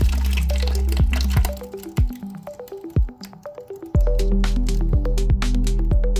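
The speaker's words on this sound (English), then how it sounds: "I have a bowl here that I'm going to pour the mixture into." Korean BBQ short rib marinade of soy sauce, mirin, corn syrup and sesame oil pours into a bowl in a kitchen, with repeated drips, splats and liquid glugs, close up and without talk.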